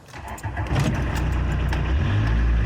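A 2005 Suzuki Samurai engine cranks and catches, then settles into a steady, loud idle close by.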